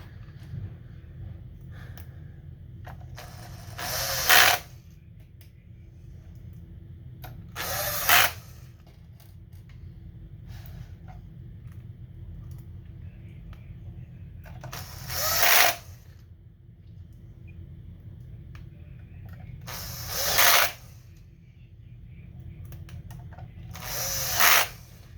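Short whirring bursts from a small power screwdriver come about every four to five seconds while an Xbox Series S power supply and fan are fastened down, close and fairly loud over a low background hum.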